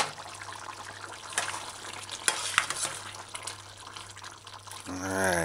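Brown stew pork with butter beans being stirred in a pot on the stove, soft wet scraping and thick bubbling liquid, fairly close and moderate in level, with a brief louder clatter near the end.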